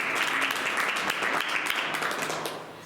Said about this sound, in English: So a round of applause for each of them as well.